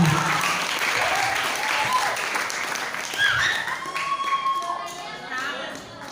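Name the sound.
applause for Angsana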